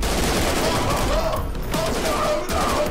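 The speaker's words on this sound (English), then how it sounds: "Explosions!" Video game combat bursts with rapid gunfire and explosions, a dense and continuous crackle of shots that fills the moment at a fairly loud level.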